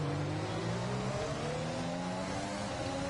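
Several race cars in a racing video game whine and rise in pitch together as they accelerate, a steady faint-to-moderate roar with overlapping revving tones.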